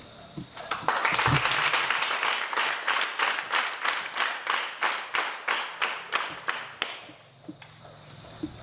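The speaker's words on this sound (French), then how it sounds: "on va vous applaudir." A crowd bursts into applause that quickly settles into loud, rhythmic clapping in unison, an even beat of about two claps per second before it fades out.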